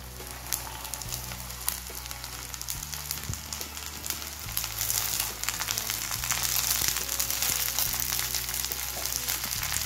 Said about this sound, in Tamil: இப்போ காய் போட்டுக்கலாம்.